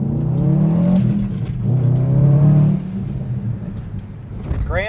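Subaru WRX STI with no rev limiter revving hard and loud up close, the engine note rising and falling in two long surges before settling to a rougher idle-like rumble.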